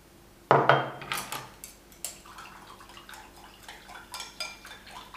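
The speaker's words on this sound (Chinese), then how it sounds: "搅拌均匀，分少量多次的加入面粉中，边倒边搅拌。" Spinach juice mixture stirred in a bowl with a utensil while making vegetable flower rolls, starting with a loud clatter of dish and utensil, then a run of light scraping and clinking strokes continuing steadily.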